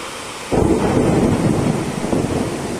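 Heavy rain pours down at home with wind and rolling thunder, a sudden loud broadband roar starting after a brief quiet moment and holding steady close by.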